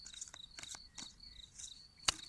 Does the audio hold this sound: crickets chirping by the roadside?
yes